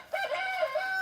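A chicken at an animal sanctuary clucks nearby in a quick run of several short, nasal calls over about a second, loud and clear with no talk.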